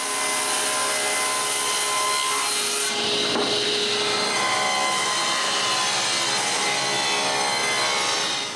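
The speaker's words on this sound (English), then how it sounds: "The other side is then cut with the table saw." A table saw cutting a wooden plank for a small writing desk, a loud constant whine of the running blade with a rasping cut through the wood midway, close and steady the whole time.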